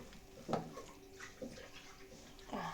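Cold water runs from a kitchen tap in short, soft gushes at about three moments, fairly quiet against a faint room background.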